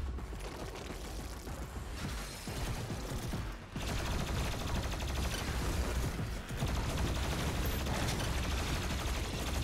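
Sustained weapon fire in the shooter game Doom Eternal, dense rapid bursts of loud gunfire and mechanical clatter filling nearly the whole stretch with only brief dips.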